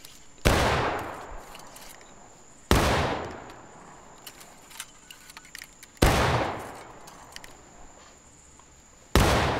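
Massed musket volleys fired by a line of infantry drilling with the 1st Texas in War of Rights, four sharp, loud cracks spaced a few seconds apart, each ringing out into a decaying rumble with scattered shots between.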